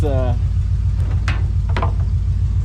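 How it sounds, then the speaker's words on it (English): A 1962 Chevrolet C10 engine cranks on a weak lawnmower battery, giving a steady low mechanical churn throughout with a brief voice at the start and a few light clicks over it. "I can hear it trying to start, but the lawnmower battery just doesn't have the amps."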